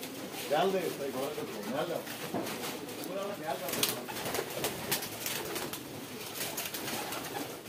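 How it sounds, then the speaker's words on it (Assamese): Local pigeons coo repeatedly on a pigeon farm in soft, rolling calls, several birds overlapping close by, with quiet talk mixed in. "লোকেল পাৰচৰ য'ত ৰাখিছে সেইটো ফাৰ্ম হল এইটো।"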